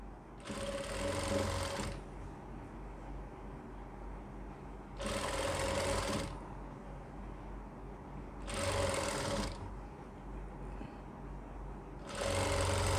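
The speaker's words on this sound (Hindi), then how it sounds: "इस तरीके से हम यहाँ पे सिलाई लगाएंगे" An electric sewing machine stitches fabric for a baby's pants in four loud, whirring bursts of a couple of seconds each, separated by quieter pauses with faint handling noise.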